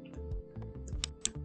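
Sharp mouse clicks on a computer mouse, a few quick taps close up among faint keyboard-like ticks and low desk rumble, with no voices.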